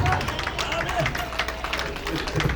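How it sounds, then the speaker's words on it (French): Guests at a Congolese wedding applaud, a dense spread of claps mixed with crowd murmur filling the room steadily for a few seconds. "on l'applaudit encore très fort"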